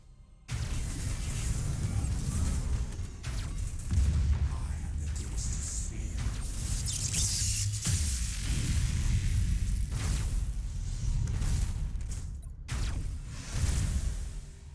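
Torpedo strikes and explosions rumble through a space battle in Battlefleet Gothic Armada 2, a sustained low roar of booms and whooshing impacts with swells of louder blasts.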